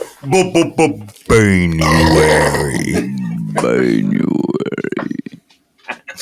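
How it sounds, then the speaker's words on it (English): Drawn-out loud burps from podcast hosts of a movie review show, one long resonant belch following a short one, with brief voices around them. "Nice burps."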